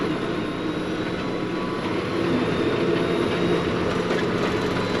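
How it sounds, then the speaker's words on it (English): A fully loaded tractor with a rough-running engine travels on a road at about 26 miles an hour, giving a steady, moderately loud drone and rumble with no talking. "You can hear that tractor is pretty rough as well"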